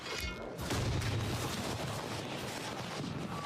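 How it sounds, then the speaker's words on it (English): Firecrackers burst in the video game Dying Light The Beast, a dense crackling volley of rapid pops and booms at moderate loudness, continuous across the few seconds with no speech. "Boy, the firecrackers in this game really go off."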